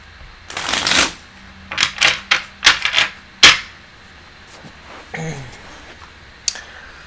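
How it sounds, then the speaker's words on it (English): Tarot cards are shuffled in a quick burst, followed by a run of short riffling bursts and a few soft taps, close and clear. "How many shuffles? Two or three. Make it three."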